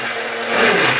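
Small grinder blades whirring through mineral foundation powder, a brief, close, high-pitched buzzing spin that swells slightly toward the end.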